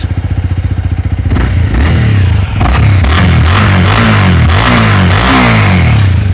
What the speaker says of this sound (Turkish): Motorun sesi benim hoşuma gitti. Dolu dolu bir ses var.